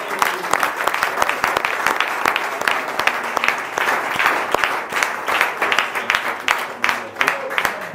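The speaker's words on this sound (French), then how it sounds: "On acclame le Seigneur." A church congregation claps and applauds to acclaim the Lord, dense rhythmic clapping filling the space, loud and close, with crowd voices mixed in.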